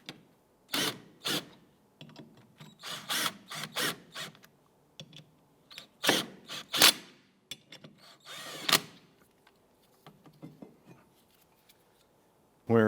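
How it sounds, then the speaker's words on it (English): Bolts are tightened into a rear brake drum on a 2001-2005 Honda Civic, bearing against the hub face to push the drum off: loud, close bursts of ratcheting and impact-tool whirring in irregular spurts, separated by quiet gaps. "we're going to tighten these down, and as they tighten in, they go up against the backside hub face, and it pushes the brake drum out"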